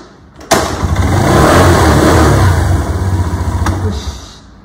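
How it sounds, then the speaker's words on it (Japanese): A motorcycle engine cranks and catches with a sharp burst, then revs up and holds in loud, close surges before easing off near the end. "じゃあエンジン始動します"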